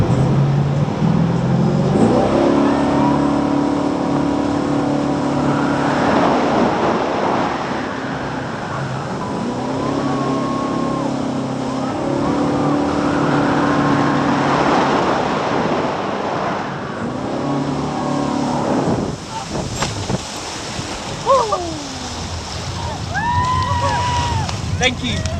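A high speed jet boat roars across a pond at Velocity Valley, New Zealand, its loud engine surging and falling with rushing water and wind as it swings into a spin, with voices and shouts mixed in.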